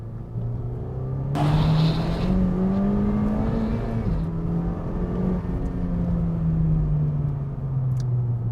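A Honda Civic Type R engine hums at a steady drone, rising and settling in pitch through moderate revs, loud and close with no talking over it.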